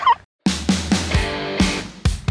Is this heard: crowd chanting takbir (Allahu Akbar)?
no